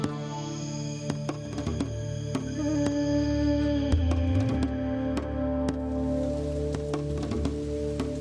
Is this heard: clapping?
no